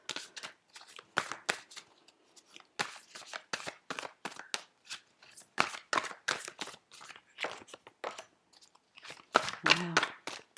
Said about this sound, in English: Your cards are going everywhere.